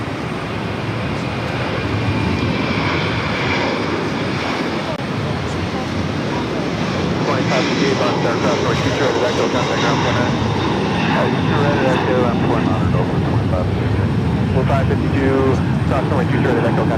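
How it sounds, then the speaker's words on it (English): Iberia Airbus A330-300 jet on its takeoff roll at Boston Logan, a loud, sustained broadband engine roar that holds steady throughout, with faint tower radio chatter audible beneath it. "Iberia, flight 6166, heading to Madrid at A330-300 up next for takeoff"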